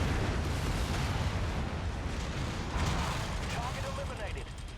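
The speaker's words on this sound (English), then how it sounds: "We're getting a lot of mech explosions" Rumbling booms and crackling blasts of mech explosions in the MechWarrior 5: Mercenaries video game, forming a dense continuous roar of low-end explosive noise with a faint electronic warble toward the end.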